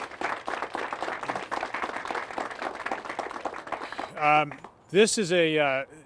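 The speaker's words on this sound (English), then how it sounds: "So I just ask you to join me in a round of applause for Derek and his team at the EDC." A crowd at the ribbon-cutting ceremony for a Doctors Express clinic claps in a brisk, close round of applause, then a couple of voices call out and cheer over the fading claps.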